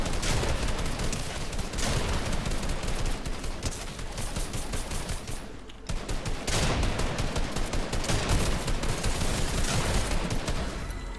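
Rapid sustained automatic gunfire from a zombie-shooting video game, dense overlapping bursts that pause briefly midway and then resume, loud and close throughout.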